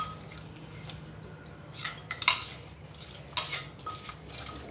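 Spoon scraping and clinking against a bowl or glass while stirring papaya salad dressing to dissolve the sugar, a few sharp clinks over a quiet, steady background.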